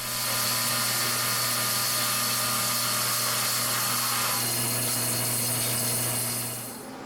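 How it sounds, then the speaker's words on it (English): Bandsaw cutting an acrylic pen blank, a steady loud motor hum with a high whirring blade and a rougher cutting rasp, winding down at the end. "I'll use the bandsaw instead of the table saw"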